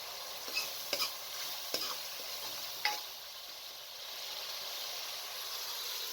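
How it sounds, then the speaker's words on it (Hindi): Spice mixture with tomatoes frying for aloo tinday curry, a steady hissing sizzle with a few sharp spatula scrapes early on, near and moderately loud. "1 से 2 मिनट तक इसे अच्छी तरीके से भून लें।"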